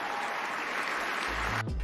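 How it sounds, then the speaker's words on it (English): Applause from an audience after a motivational speech, dense and sustained clapping that cuts off abruptly near the end as a low voice begins. "he didn't talk over the applause"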